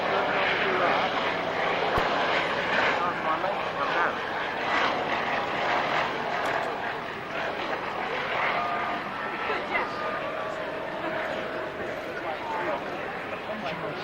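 A propeller airplane drones past along the display line at the Biggin Hill airshow in 2002, a steady engine roar that swells and eases over the crowd, with an announcer talking over it.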